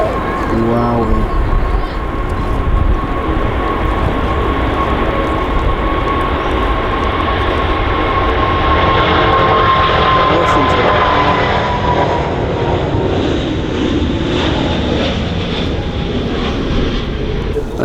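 An Emirates airliner departs runway 23R at Manchester Airport, a loud sustained jet engine roar that holds strong and then slowly recedes into the distance, with crowd sounds faintly underneath.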